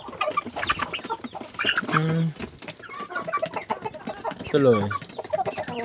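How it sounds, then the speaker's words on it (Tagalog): Chickens cluck and squawk close by, with busy overlapping calls and a couple of louder drawn-out cries; a person speaks briefly among them. "Kumakain na yung ating mga manok na alaga"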